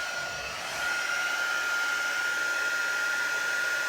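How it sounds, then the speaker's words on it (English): A hair dryer blowing steadily on a handmade journal, a loud continuous whir with a sharp whine, starting slightly quieter and then running at full power throughout. "If my dryer will work."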